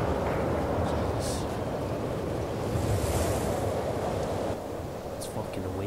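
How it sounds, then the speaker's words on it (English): Strong wind roars steadily in The Last of Us Part II, a dense rushing gust noise with surf-like swells running throughout, loud and continuous. "It's pretty windy."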